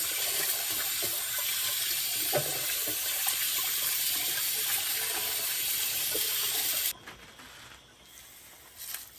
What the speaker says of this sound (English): If you don't wash your rice, it's up to you, but I do wash mine. I wash it twice.